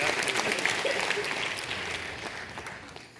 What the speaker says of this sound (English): Now I want you to applaud for that dumb card right there.